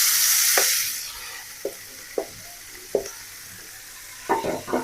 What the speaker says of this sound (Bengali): পেঁয়াজ আর রসুন ভাজা হয়ে গেছে, দিয়ে দেবো শাক।